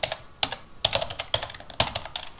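Keys clatter on a computer keyboard as LaTeX code is entered, a quick irregular burst of crisp clicks with short pauses, close and fairly loud, with no talking.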